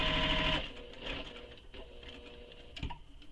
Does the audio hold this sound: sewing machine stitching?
yes